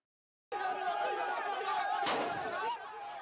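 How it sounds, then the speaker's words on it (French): A gunshot fired to disperse protesters in front of a presidential palace: one sharp, loud crack cuts through steady crowd noise and chatter. "Devant le palais présidentiel, des coups de feu pour disperser les manifestants"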